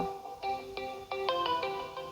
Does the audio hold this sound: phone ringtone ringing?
yes